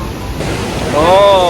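Iguazu Falls roars as a steady, broad wash of falling water mixed with gusting wind noise on the microphone, with a brief voiced tone near the end.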